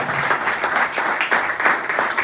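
An audience at the Cachupín de Oro 2023 award ceremony applauds an honoree, a dense, continuous patter of many hands clapping at moderate volume, steady throughout the short stretch with no speech over it.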